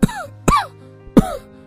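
A man soaked in rain and shivering coughs three times in quick succession, each a sharp, close, harsh burst with a brief wheezy tail, separated by short pauses.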